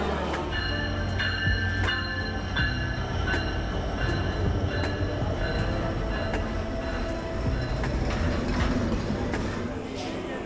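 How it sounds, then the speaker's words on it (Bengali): A train pulls away from Saidpur railway station, bound for Jessore, its steady rumble and rattling wagons loud and close throughout, with regular clanking wheel beats and squealing metallic tones; faint voices mix into the noise. "এই যে বাবলু যশোরের ট্রেন ছেড়ে দিল"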